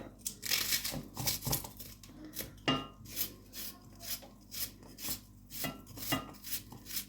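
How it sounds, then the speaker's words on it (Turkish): Quiet, rhythmic knife chops on a cutting board, a steady series of sharp taps at close range with no talking. "Bunu da ekleyeceğim şöyle doğrayıp"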